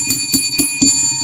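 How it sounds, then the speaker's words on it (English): A small bell rings in quick repeated strikes, four bright metallic dings about a quarter second apart with shimmering overtones, loud and close, with no talk over it. "Let's ring the bell for that."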